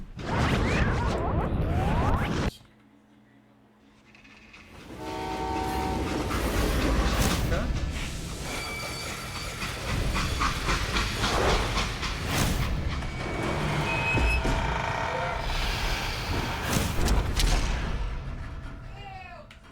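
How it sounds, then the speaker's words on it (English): Steam train in the Western video game Call of Juarez: Gunslinger, grinding to a halt with loud broadband hiss and rattling clatter; a brief lull early on, then sustained rumbling noise and metallic clanks through the rest. "how'd they stop this train in the first place?"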